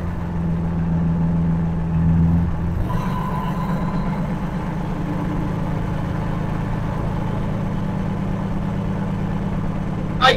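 The rattling engine of a 27-litre Rover SD1 drones steadily while driving, with a low, continuous rumble and a brief shift in tone early on.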